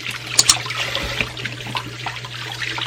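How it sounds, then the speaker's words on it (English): Cold running water trickles over collard greens as they are washed at a sink, a close, uneven splashing and dribbling with a steady low hum underneath and no talking. "I am cleaning this in cold water."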